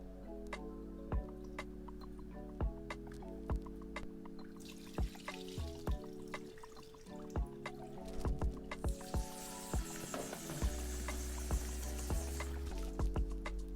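Water sloshes and splashes as rice is swirled and rinsed by hand, with small clicks and drips, while a steady hum runs underneath.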